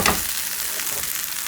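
A thin butterbur and shiitake pancake sizzles in a hot pan, a bright, steady frying hiss with a brief louder crackle at the start, alone and close.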